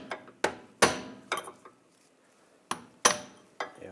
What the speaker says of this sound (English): Now I'm just going to give a tap right here with a punch just to separate it from the differential.